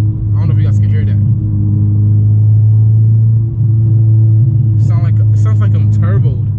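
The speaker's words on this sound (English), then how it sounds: "you get the throttle body spacer, you do get that little, it sounds like you have a turbo" A 9th-generation Honda Civic Si engine fitted with a throttle body spacer rumbles steadily and loud at a high idle or light rev, with a voice talking over it at the start and again near the end.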